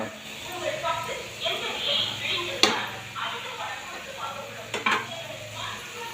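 Chicken gravy ingredients sautéed in a pan over a low flame: a gentle, fairly quiet sizzle with soft stirring strokes and two sharper spatula clacks, while a voice talks faintly alongside.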